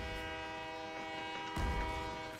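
A train rumbles past in a video game, its horn sounding as a sustained tonal blare over low rolling noise that swells louder partway through.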